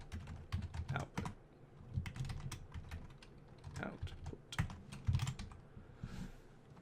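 Someone types on a computer keyboard while entering console input for a Java program. Irregular, close key clicks come in quick runs with short pauses, fairly quiet, and there is a little faint talk in the background.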